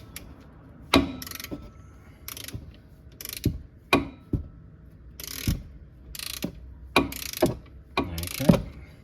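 A ratchet wrench clicks through repeated short bursts while loosening a 7mm hex bolt on the brake rotor of a Ford Focus during a slotted rotor upgrade; crisp, close and loud, with pauses between strokes and no talking.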